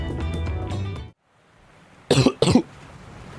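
A Final Fantasy XIV character gives two close, loud coughs in quick succession after a brief pause in the game's music.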